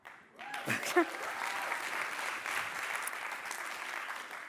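An audience at a live charity program bursts into sustained applause, dense clapping that rises quickly and holds steady, with a brief voice at the start.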